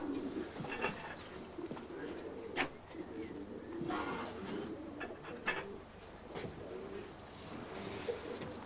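Pigeons in a racing loft coo in low, soft, repeated murmurs, with occasional sharper clatters and rustles throughout.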